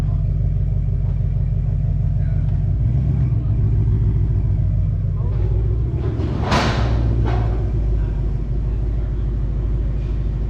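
A 2019 Ford Mustang GT on a dyno, fitted with headers, E85 fuel and stock mufflers, rumbles at a loud steady idle, then blips once sharply around the middle before settling back to a deep drone.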